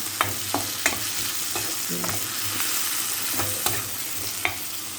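Tomatoes and onions stirred in a frying pan, with a steady sizzle under occasional light spatula scrapes and taps.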